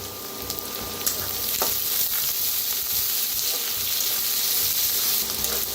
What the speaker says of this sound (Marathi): ह्याच्यात टाकूया कोथिंबीरच्या बघा अशा काड्या कवळ्या कवळ्या आणि कांद्याची पात ती बी भाजून घेऊया